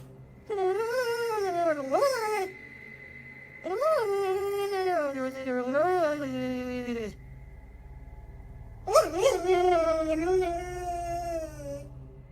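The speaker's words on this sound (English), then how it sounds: "This prompted the Redditor's dog to freak out. He's seen in the video staring at something and whining for several minutes." A dog whines and moans in long, high, wavering cries, several drawn-out bursts separated by short silences, close and fairly loud.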